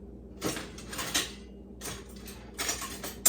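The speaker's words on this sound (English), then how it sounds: "We're going to whisk this up, okay?" A brown sugar mixture whisked in a bowl gives bursts of scraping, clinking metal-on-bowl strokes in several short runs with quiet gaps between, close and moderately loud.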